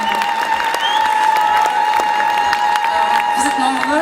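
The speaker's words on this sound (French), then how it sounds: "Applaudissements s'il vous plaît." Crowd applause at a political rally in a hall, sustained clapping from many hands with scattered cheers, under a steady tonal hum from the sound system and some voices nearby.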